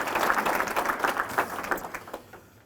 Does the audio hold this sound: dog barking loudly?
no